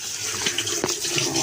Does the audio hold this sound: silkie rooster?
no